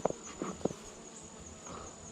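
Honey bees buzzing around an open hive in an apiary yard, a faint steady insect drone with a few brief louder passes of bees flying close to the microphone early on.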